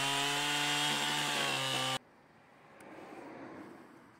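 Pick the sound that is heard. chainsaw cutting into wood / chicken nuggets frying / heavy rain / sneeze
chainsaw cutting into wood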